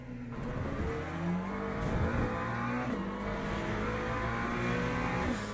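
A hypercar in Le Mans Ultimate closes in and passes, its engine a loud, dense roar rising and dipping in pitch through gear shifts over the constant drone of the player's own car.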